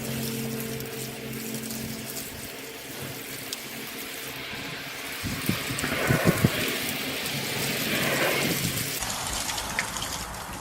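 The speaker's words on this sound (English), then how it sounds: "Rinse off these lovely roots here." Water runs and splashes steadily as cucumber plant roots are rinsed off while being moved from soil to hydroponics. The hiss is soft and continuous, with a fuller gush partway through, and no one speaks.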